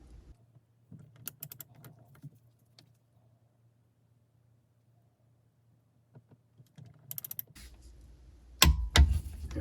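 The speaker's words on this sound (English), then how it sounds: "so we can properly torque these in sequence" Torque wrench tightening bolts on a Sea-Doo 951DI jet ski engine to 18 foot-pounds: short bursts of sharp ratcheting clicks over a low hum, with quiet gaps between them and a loud knock and rattle near the end.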